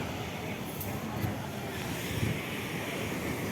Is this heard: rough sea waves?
yes